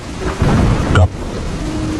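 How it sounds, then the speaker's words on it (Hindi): Heavy rain falling on a hut roof and dripping through onto a stove: a dense wet rush with a sharp thump and crackle midway, steady and close throughout. "बारिश छत से होकर सीधे चूल्हे पर टपक रही थी।"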